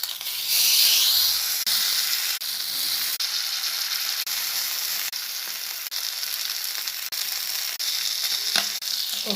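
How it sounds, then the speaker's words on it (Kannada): Marinated Chinese pomfret pieces coated for coriander fish fry crackle on a hot tawa in a loud, dense, continuous hissing sizzle, close up, with a few faint clicks and no talking. "ಓಕೆ, ಎಲ್ಲ ತವಾ ಮೇಲೆ ಹಾಕಿದ್ದೀನಿ fish fry. Coriander fish fry ಮಾಡ್ತಾ ಇರೋದು"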